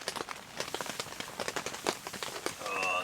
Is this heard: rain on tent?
yes